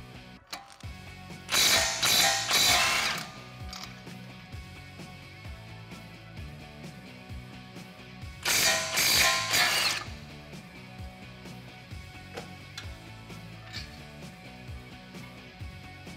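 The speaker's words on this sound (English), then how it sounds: "With a 21mm socket, remove both bolts at the back of your caliper bracket." A ratchet with a 21mm socket loosening the caliper bracket bolts on a Jeep Wrangler JK front brake, two loud bursts of rapid clicking about seven seconds apart, close up, with quiet workshop noise between.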